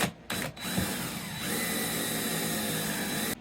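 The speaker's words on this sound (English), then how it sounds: "This is like a stepper drill bit to make big holes." A power drill with a stepped bit drilling a big hole in an RV whirs steadily and loudly with a high mechanical whine, briefly stopping twice near the start before running continuously.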